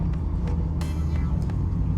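A home-built race car powered by a Corvette engine runs on a race track, its low engine drone loud and continuous, with brief sharper bursts cutting through the rumble.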